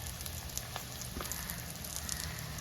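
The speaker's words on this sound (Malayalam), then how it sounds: "നമുക്ക് സവോള അരിഞ്ഞു വെച്ചിരിക്കുന്നത് ചേർത്ത് കൊടുക്കാം. ഒപ്പം നമുക്ക് ആ കറിവേപ്പിലൂടെ ഇട്ട് കൊടുക്കാം." Chopped onion and curry leaves sizzle steadily in a hot pan of oil while making a fish curry, a continuous crackling hiss with faint pops and no talking.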